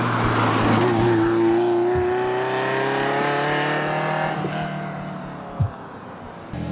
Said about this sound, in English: One of my favorite things about it is the sound of a Ferrari.